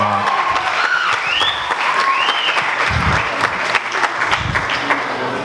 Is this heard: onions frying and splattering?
no